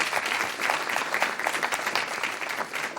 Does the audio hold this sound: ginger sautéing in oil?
no